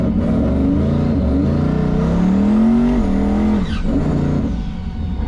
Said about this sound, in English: cool, we'll do a little burnout here.